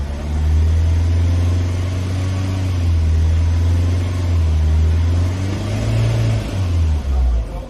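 A car engine revved during a vehicle inspection, held at a loud, steady drone with rising and falling revs throughout, close by and alone without talk.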